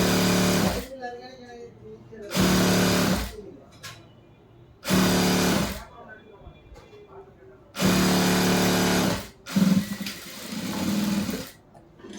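Sewing machine running straight stitches on a churidar top, several loud bursts of rapid whirring separated by pauses in which someone talks.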